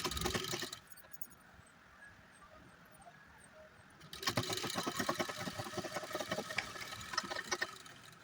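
Sewing machine stitching half-inch folded hems on both leg openings of a baby boy's half pants, a brief whir at the start, then a quiet pause before a louder, steady run of rapid stitching.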